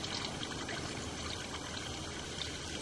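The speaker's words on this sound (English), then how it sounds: "Currently have some water running right now." Water runs steadily through a newly installed 4-inch PVC sewer line under a house, heard from inside the pipe as a constant hissing trickle throughout, with no talk.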